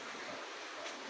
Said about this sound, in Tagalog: ragasa ng tubig